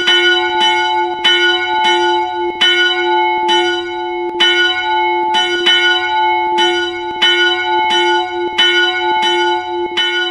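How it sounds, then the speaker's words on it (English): Church bell number 8 of an eight-bell ring in Roblox strikes in a steady, loud pealing rhythm, about a dozen clear metallic strokes with ringing overtones over ten seconds, heard alone. "And bell number 8 now."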